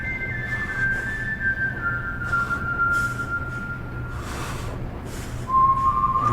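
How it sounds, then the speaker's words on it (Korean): Someone whistles a slow, wavering tune, held notes drifting down in pitch, fairly clear over a low background rumble. "어디선가 들리는 그리운 휘파람 소리."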